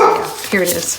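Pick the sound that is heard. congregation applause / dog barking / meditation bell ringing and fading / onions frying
dog barking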